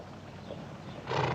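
A horse neighs in a classic Western frontier setting as riders meet on horseback, a brief whinny rising out of low hoof and tack noise near the end of a short, close moment.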